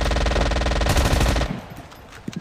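Rapid video-game machine-gun fire rattles loud and close for about a second and a half in a dense burst, then stops abruptly, leaving faint scattered shots and ambient noise.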